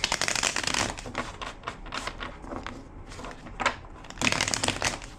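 Tarot cards are shuffled in quick riffling bursts, crisp fluttering flicks close by, pausing briefly between passes.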